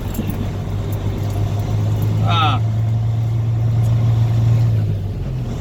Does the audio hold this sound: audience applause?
no